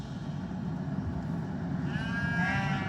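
Sheep bleat on a farm over a low rumbling background, with a wavering, nasal bleat rising clearly near the end and no voices present.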